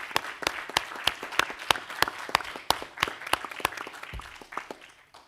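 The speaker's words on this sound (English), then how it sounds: "a big round of applause for everyone" Scattered audience clapping at a briefing paper launch event, individual hand claps distinct and fairly near, moderately quiet and uneven in rhythm.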